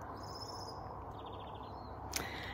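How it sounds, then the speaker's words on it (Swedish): Birds singing during a bright midnight in northern Sweden, faint high chirps and short trilled phrases from a distance over a quiet outdoor background, with one brief sharp click near the end. "Jag hör massa fåglar sjunga också."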